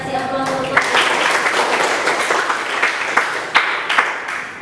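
A university class gives a student a round of applause, a burst of many hands clapping that runs steadily and close, with a few louder claps standing out before it tapers off.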